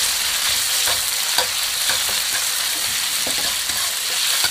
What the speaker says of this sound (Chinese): 炒香了之后，瘦肉下锅炒散。